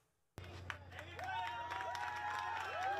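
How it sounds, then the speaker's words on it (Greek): Warm applause greets ship captain Carola Rackete, clapping bursting in suddenly after a brief quiet and continuing steadily, mixed with crowd voices and whistles over a low hum. "Το θερμό χειροκρότημα ζεσταίνει την καρδιά της νεαρής καπετάνισσας."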